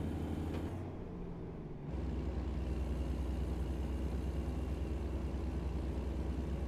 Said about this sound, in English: Get some engine brake happening